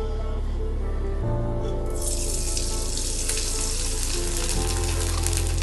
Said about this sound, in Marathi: आणि हे बघा आता तळून कशा होतात त्या.